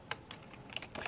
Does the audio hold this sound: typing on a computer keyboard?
yes